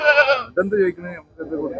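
A goat bleats with a wavering, nasal call at a busy goat market in Chattiparamba, Kerala, then people talk over it as the animal calls again more faintly.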